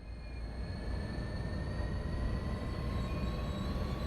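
A passenger train rolls along the Peninsula Corridor near Santa Clara in a train simulator game, a loud continuous rumble of wheels on rails with faint high squeals, steady throughout.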